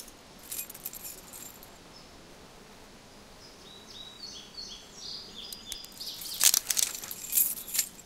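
Keys jangling in The Walking Dead video game, a bright metallic rattle building in the latter half over quiet game ambience, fairly close.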